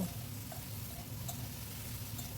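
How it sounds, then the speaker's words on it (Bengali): Beans, potatoes, tomato and green chili being stirred and fried together in a pan, giving a steady low sizzle with soft scraping of the spoon, moderately quiet and continuous with no talking. "এবার সব কিছু খুব ভালো করে মিশিয়ে নিয়ে একটু নাড়াচাড়া করে ভাজা ভাজা মতন করে নেব"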